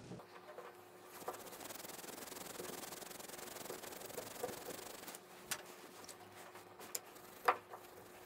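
A small whetstone fragment rubbed steadily back and forth on a natural sharpening stone to raise slurry, giving a continuous gritty scraping close by, with a few sharper clicks near the end and no talking.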